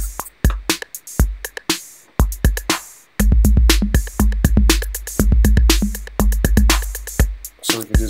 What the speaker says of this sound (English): We can add in an analog drum machine right there